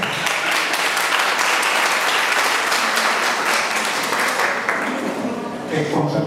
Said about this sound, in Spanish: Yo pienso que se merece un aplauso